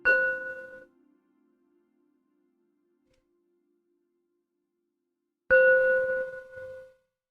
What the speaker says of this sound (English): let's just do a little bell